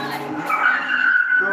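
A Dodge Viper launches off the line in a standing quarter-mile drag race with a loud, close tyre squeal and engine roar that builds into a sustained screech.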